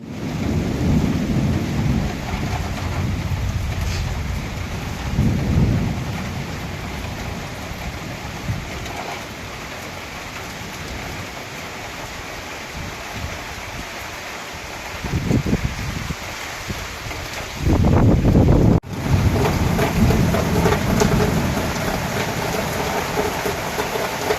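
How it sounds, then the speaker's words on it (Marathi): Heavy unseasonal May rain pours steadily while thunder rumbles and cracks several times, one loud close burst near the end, all without voices. "एकदम अवकाळी पाऊस पडतो आहे"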